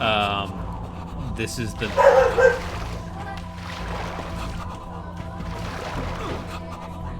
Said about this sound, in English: Dog losing his dang mind because someone's at the door.